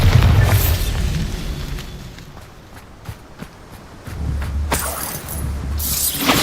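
Bombarda explosion spells in Hogwarts Legacy gameplay, loud low booming blasts at the start and again near the end with shattering debris between, separated by quieter stretches of footsteps and thuds, no talking.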